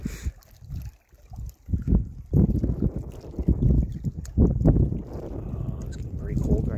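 Wind gusts buffet the microphone beside the Suwannee River at Little River Spring, rumbling low and uneven in bursts, with a voice talking over it.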